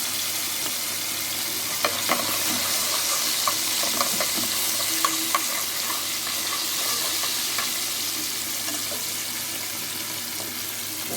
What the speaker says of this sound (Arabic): حطيت فص ثوم مفروم طبعا. اول ما يكون مركز الثوم هحط القوطه المعصوره على طول شويه